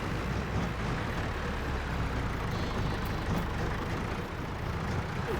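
A small tractor engine in the Farming Simulator video game drones steadily at a low, heavy pitch, constant and close for the whole stretch with no talk over it.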